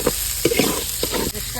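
Okra frying in salted oil in a kadai in a village kitchen, stirred steadily: a continuous close sizzle with repeated scraping strokes of the spoon against the pan, no voices.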